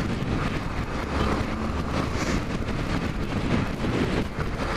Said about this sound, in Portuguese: E o vento lateral balançando tudo